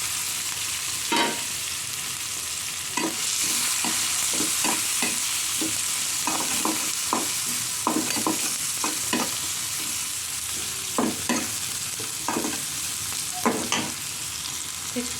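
Chopped onion and green chili sizzle in hot oil in a pan where eggs were just fried, a steady crackling hiss broken by repeated sharp scrapes and taps of a stirring spoon.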